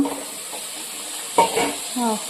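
Spiced cauliflower and potato masala sizzles in oil in a pan. A faint, continuous frying hiss runs under a couple of brief, quiet voice sounds.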